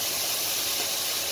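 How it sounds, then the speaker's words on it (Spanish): Vegetables brown with bacon in a pan, giving a steady close sizzle and hiss that holds evenly throughout. "Vamos a dorar bien nuestros vegetales con el bacon"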